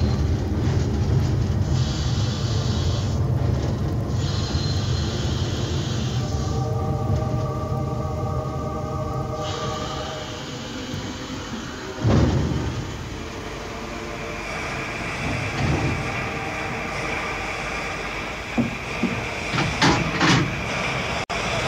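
A train pulls into the Warsaw station terminus, a low rumbling roll with a heavy clunk midway and scattered metallic knocks and squeals as it settles, loud and close, with no voices.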